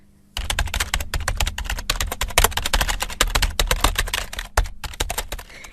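Rapid typing on a computer keyboard, a dense, close stream of crisp key clicks with brief pauses, heard alone in a quiet room.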